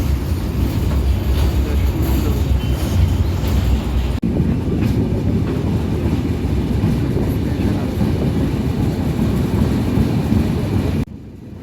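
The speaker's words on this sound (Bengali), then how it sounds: "ট্রেন যাইতেছে" The Rupshi Bangla Express running on the line, a loud, steady rumbling roar of wagons with a faint clatter, changing tone partway through and dropping off sharply at the end.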